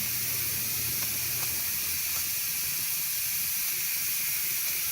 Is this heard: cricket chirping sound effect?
no